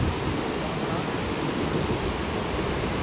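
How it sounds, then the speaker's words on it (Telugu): Water pours down Gandahati waterfall as a loud, unbroken hiss-like roar, steady and close throughout. "ఎంత ఫోర్స్గా వస్తుంది చూడండి వాటర్"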